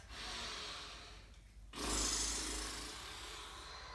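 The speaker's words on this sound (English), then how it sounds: "We'll take that deep breath in and out." During a core-strength vinyasa yoga session, a person takes a deep breath, with a slow airy exhale followed by a pause, then a fuller, louder inhale that tapers off gradually. The breathing is close and unaccompanied by talk.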